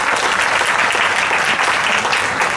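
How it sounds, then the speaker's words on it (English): Dense, steady applause from a school audience honoring tenth-grade students after their stage show, continuous and loud throughout with no break. "So let's give them a big round of applause."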